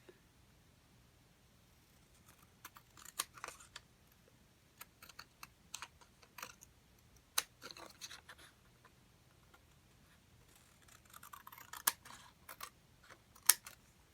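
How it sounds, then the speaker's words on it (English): Scissors cut around paper ephemera for a floral journal, many small, quiet, close snips in irregular bursts with short pauses, no talking. "we're just going to cut around this"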